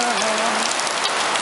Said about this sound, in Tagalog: Lalong lumakas ang ulan